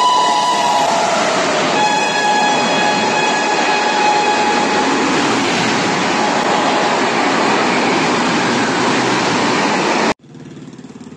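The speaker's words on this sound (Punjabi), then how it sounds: "ਟ੍ਰੇਨ ਆ ਰਹੀ ਸਾਹਮਣੇ।" A train approaches a station in Haryana, India, a loud continuous rumble of wheels and carriages with a sustained horn blast, close by, ending abruptly.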